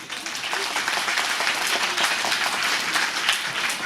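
An audience at a stage arts performance by people with physical and mental disabilities breaks into dense, sustained applause, a loud, even roar of many clapping hands for a few seconds.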